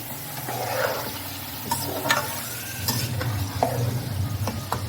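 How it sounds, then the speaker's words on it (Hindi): Beef karahi gosht stirred and frying in a pan over a high flame on a small stove, with a steady close sizzle and repeated scraping stirs all the way through. "तो हम अच्छे से इसे तब तक भूनेंगे"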